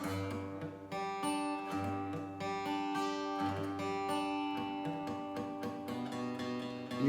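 A beginner's unclear guitar chord, picked string by string in a slow repeating pattern, with some notes ringing and others muffled, close and moderately quiet with no talking.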